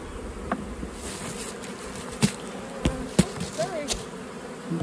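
Honeybees flying around an open hive with a wet nest and stored syrup, a steady soft buzzing with a few brief knocks and clicks over it and no talk.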